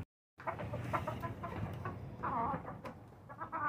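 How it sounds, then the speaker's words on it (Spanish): Young laying hens clucking softly and steadily nearby, with overlapping low murmurs and occasional higher calls in a farmyard setting. "aquí tenemos estas nuevas gallinitas"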